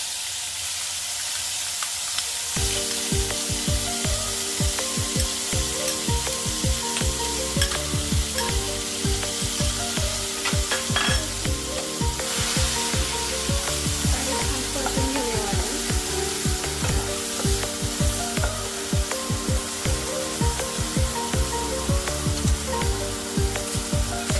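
Chicken kharda spice paste hits hot oil in a kadhai with a loud, steady sizzle that continues throughout, mixed with repeated scraping and stirring strokes against the pan. No voices.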